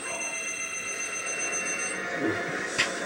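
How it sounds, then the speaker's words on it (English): A telephone rings indoors in a home, a steady tonal ring lasting the whole moment at moderate level over faint room noise. "That's the phone ringing."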